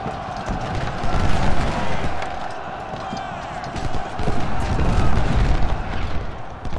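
Cannon and musket fire in the Civil War strategy game Ultimate General: Civil War gives low, heavy booms and rumbling volleys, with a cluster of thuds near the end, under faint battle noise.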